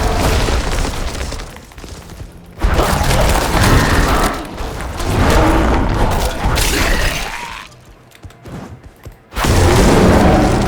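Artillery shrine blasts in Diablo 4, heavy booming explosions with splintering, shattering debris, coming in several loud bursts separated by brief quieter gaps.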